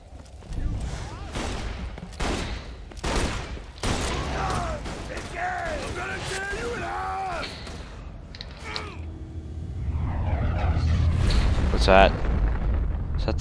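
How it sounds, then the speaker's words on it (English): Rumbling, crackling game effects in Borderlands 2, with bursts like gunfire and creaking mechanisms over a steady low roar that swells toward the end, mixed with a voice talking through much of it. "The sound of those earthquakes marks my drills getting closer and closer to the vault."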